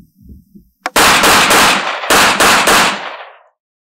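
A Ruger LC9 9mm compact pistol is fired rapidly at 15 feet, giving a quick burst of about seven loud, sharp shots in two tight clusters, each crack followed by a short decay, with no talking.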